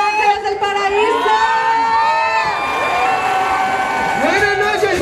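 A large crowd cheers, whoops and shouts at a carnival comparsa parade in Sayula, Jalisco, continuous and loud with high shrill voices and children's yells layered throughout.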